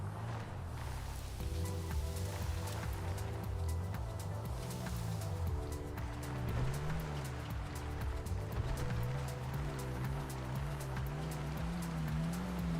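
A truck in GTA RP driving onto a beach, its engine droning and rising and falling steadily over a continuous wash of surf and water noise, with no talk.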